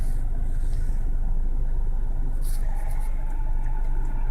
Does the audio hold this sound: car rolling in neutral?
yes